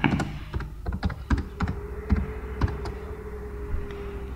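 A computer keyboard typing text into a title template in motion-graphics software: a series of crisp, irregular key clicks up close, louder at first and then thinning out, with no one speaking.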